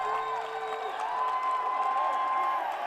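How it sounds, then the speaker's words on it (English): A crowd at a freshman high school football game between Westside and Millard South cheers and shouts in a sustained, moderately distant roar, with raised voices and whoops blending into a steady wash of noise. "This crowd is into this ball game."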